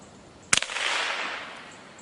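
A single sharp report from a .22 rimfire rifle, close and fairly loud, with a short decaying tail and no talk around it.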